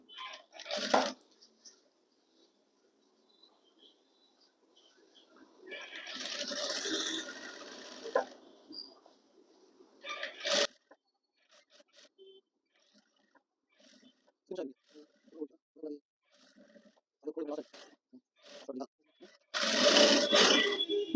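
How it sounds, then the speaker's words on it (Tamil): A sewing machine stitches fabric for a six-part petticoat, running in several short separate bursts with quiet gaps between them and some brief speech in the pauses. "நம்ம இதை விட்டுட்டு ஒரு தையல் ஒன்று போட்டுக்குவோம்"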